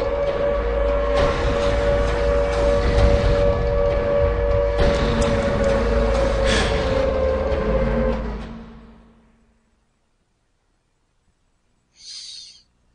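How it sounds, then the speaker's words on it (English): A civil-defense-style siren from the video game Silent Hill 2 wails as one steady, loud tone for about eight seconds, then fades into silence before a brief faint sound near the end. "Judging from that siren just now"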